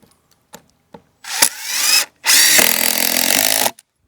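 A power drill drives screws into the wood of a walkway built on bare ground. A few faint knocks lead into two close, loud whirring bursts, the second held for over a second before stopping, with no voices.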